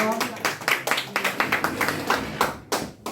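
Audience claps before a special musical performance at a Korean lecture event on poetry and independence, a scattered, uneven run of hand claps up close, with a voice talking over part of it.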